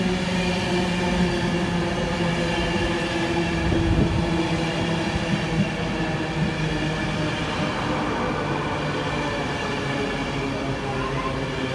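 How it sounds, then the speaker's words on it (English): A VTEC passenger train headed for London King's Cross, led by a Flying Scotsman DVT, pulls into Wakefield Westgate station on the East Coast Main Line. A loud, steady rumble of engine and wheels holds close by throughout. "pulling in now is a VTEC service on its way to London King's Cross, formed of the Flying Scotsman DVT"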